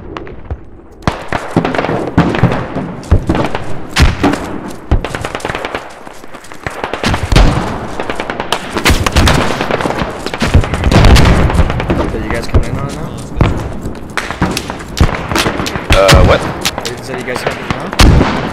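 Mortar fire and explosions in the military shooter game Squad: a dense, loud barrage of booming blasts and cracking gunfire that continues almost without pause, with voices talking underneath.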